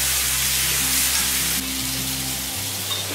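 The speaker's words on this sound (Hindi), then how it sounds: "अब मैं इसमें ये दाल डाल दी हूँ, अरहर का दाल जो मैंने पहले पका लिया।" Sambar simmering in a pan as cooked toor dal goes in: a loud, continuous close sizzle and bubbling over a low steady hum, with no one speaking.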